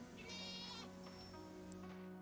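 A sheep in the video game Reka gives one sustained, wavering bleat at moderate distance, over a steady low background hum of game ambience.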